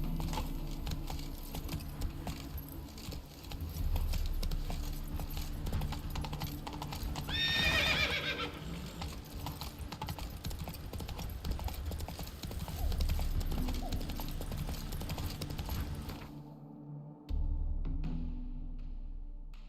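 Roach, a horse in The Witcher 3, trots with steady close clip-clop hoofbeats and gives a clear whinny midway, over a low ambient game bed before the sound cuts out near the end.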